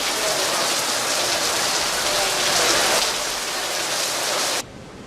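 Steady drizzling rain falls in a continuous, dense hiss across hills under heavy cloud, loud and even before cutting off abruptly near the end.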